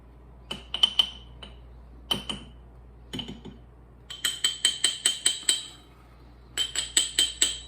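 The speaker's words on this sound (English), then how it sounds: "So we've got the powdered ingredients all stirred up here." Powdered deodorant ingredients with arrowroot are stirred in a bowl, a spoon making quiet, sharp clinks against the side in irregular bursts, then quicker runs of rhythmic taps, with no talking.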